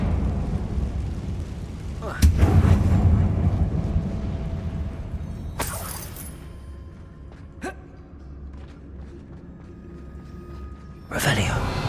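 Fire spell explosions in the Hogwarts Legacy video game, set in a closed mine that looks like a tomb: a few loud booming blasts with rumbling tails at irregular intervals, separated by quieter stretches.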